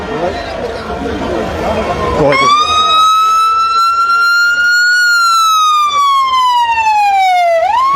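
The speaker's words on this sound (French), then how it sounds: "mais l'ambulance dans la manifestation, ici avec ce manif là" Ambulance siren wailing at a street protest march, a loud rising-then-falling tone that starts partway through and holds steady and close over crowd noise and voices.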